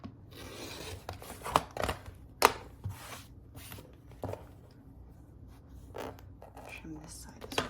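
Quilt fabric being trimmed on a cutting mat while making a curved Bloomfield quilt block: a few sharp scraping and slicing strokes over quiet rustling fabric, close and fairly soft.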